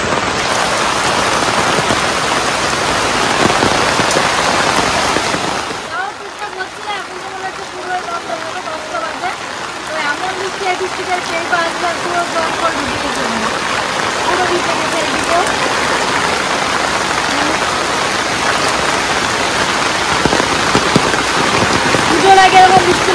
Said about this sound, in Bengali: কি আরে বৃষ্টি হচ্ছে দেখুন।